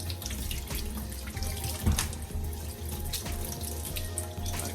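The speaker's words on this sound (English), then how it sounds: "Continue the same process until you finish washing off your ginger." Fresh ginger root is washed and broken apart under a steadily running kitchen tap, the water gushing continuously with a few sharper splashes and handling knocks, close and alone without speech.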